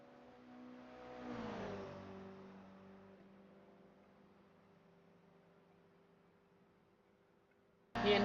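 A race car in a racing video game at Bathurst accelerates, its engine whine rising and then easing back into a steady drone, followed by a sudden loud burst of noise at the end.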